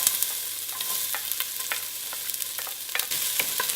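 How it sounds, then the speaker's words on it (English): Chopped garlic and red onion fry in a little hot olive oil in a saucepan, giving a continuous close crackling sizzle broken by small scrapes and taps of stirring. "I'm going to add some garlic and some red onion that I've chopped up"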